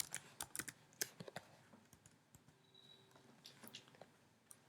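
An SQL query being typed on a computer keyboard: a quick, uneven run of close, crisp key clicks with short pauses between bursts, quiet and alone without any talk.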